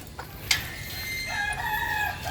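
Butcher gray gamefowl roosters in a coop, one crowing fairly near with a drawn-out call over a busy background of other fowl clucking and rustling.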